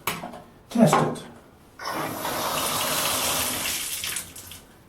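Water rushes from a repaired Moen Posi-temp bathtub and shower valve, a steady loud spray that starts after a couple of brief knocks and splashes.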